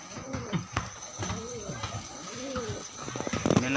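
Pigeons cooing close by in repeated soft, throaty warbling phrases, with a few sharper clicks and flutters among them.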